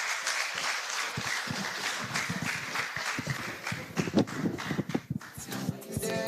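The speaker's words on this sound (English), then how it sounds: "Can we please give her a round of applause again?" Audience applause after a presentation at a pharmaceutical youth group event, steady clapping from a room of people that swells toward the end, with no talk over it.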